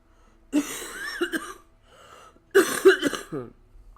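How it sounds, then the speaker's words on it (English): Two close bouts of harsh coughing from a bronchial chest cold, separated by a quiet pause, each a cluster of rough, throaty bursts. "So there's going to be some coughing."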